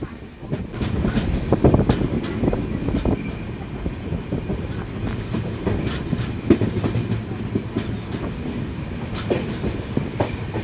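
The Uttarbanga Express train running between New Jalpaiguri and Dewanhat: a loud, steady rumble with repeated clickety-clack of wheels over rail joints, heard from on board with no talking.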